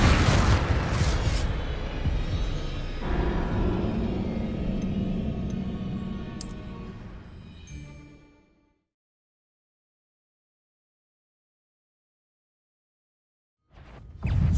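Fire and explosion spells, Incendio and Confringo, cast in Hogwarts Legacy: a loud burst and rumbling blast with fiery crackle fading over several seconds into silence, then a brief new sound at the end.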